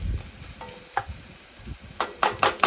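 Mushrooms and onions frying in butter in a pan, a soft sizzle with a few stirring scrapes and clinks, growing louder near the end, no talk.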